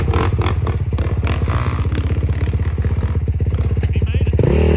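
A Honda 450 motorcycle engine revs hard and loud, close by, with a fast, steady pulsing chug as the bike climbs a steep hill trail at an overlook, and people talk over it.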